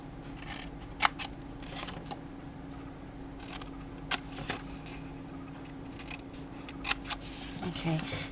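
Scissors snipping along scored lines in cardstock during a paper craft, with sharp isolated cuts spaced a second or two apart over a steady low background hum.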